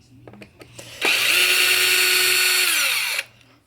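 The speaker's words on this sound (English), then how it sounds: "A power tool really makes these kind of jobs go a lot faster." A power drill whirs steadily for about two seconds, loud and close, removing screws from a Traxxas X-Maxx RC truck after a few faint clicks and taps, then spins down and stops.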